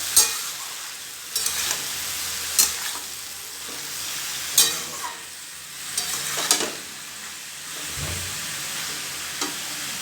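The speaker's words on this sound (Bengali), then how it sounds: "আর শাপলাটা দিয়ে ভালোভাবে মশলার সঙ্গে মিশিয়ে দেবো" Salted water lily stems stir-fry with spices and prawns in a Bengali-style pan, soft sizzle under intermittent scraping strokes of a spatula, several distinct clanks spaced a second or two apart.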